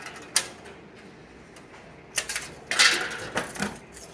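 Scissors cutting a small strip of shim material to fit around a bush, a few sharp crisp snips and metallic clicks spaced irregularly over a quiet background, close up.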